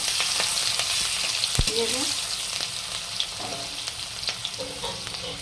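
Chopped onion and slit green chillies fry in oil for a Bengali boal fish curry. A continuous close sizzle runs throughout, broken by occasional utensil scrapes as the pan is stirred, with a brief spoken word over it.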